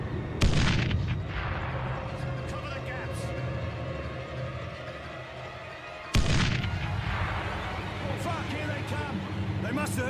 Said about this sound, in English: They must have heard the shots.